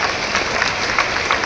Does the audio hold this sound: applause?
yes